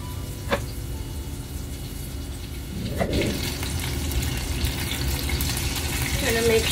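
Soya chunks frying in hot oil, giving a steady low sizzle and bubbling close by, with a few soft splashes as pieces drop in.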